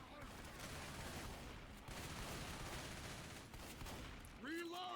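Continuous rattling gunfire in the multiplayer game Crash Co during a tournament match, dense and steady throughout, heard at low level and ending with a few rising tonal chirps.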